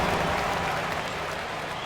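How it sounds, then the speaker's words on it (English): A crowd claps and applauds steadily in a large arena during a Pacers basketball game, a dense wash of clapping that gradually tapers slightly. "Round of applause."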